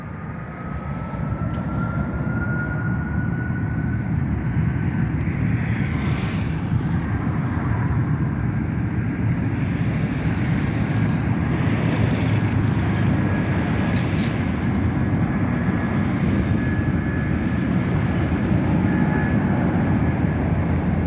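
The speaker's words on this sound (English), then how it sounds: "I'm just gonna wait for this 757 to take off." An American Airlines Boeing 757 takes off at Las Vegas airport, a steady, heavy jet roar that fills the whole stretch at constant loudness, with no voices over it.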